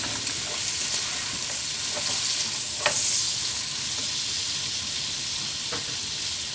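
Food sizzles and fries steadily in a pan, seasoned with black pepper, with a continuous broadband hiss and a few louder crackles and stirring clatters, close and alone without talk.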